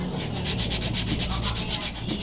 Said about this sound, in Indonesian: Kali ini saya mengupload video cara amplas dempul impra di kursi Betawi.